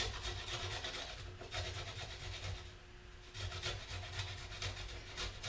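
A peeled ingredient is rubbed against a kitchen grater while a chickpea and spinach curry is being made. Soft, close rasping strokes repeat in an even back-and-forth rhythm, heard alone and fairly quiet.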